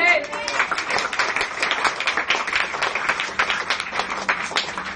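A church congregation claps hands at a worship service, steady dense clapping that runs throughout with a voice speaking over it.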